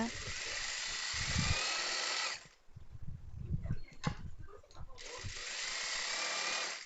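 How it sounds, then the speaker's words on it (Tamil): A sewing machine stitches down the side seam of a nighty in two steady motor runs, with quieter handling and a speaking voice in the pause between them. "அதே மாதிரி கீழே வரைக்குமே தையல் விட்டுருங்க."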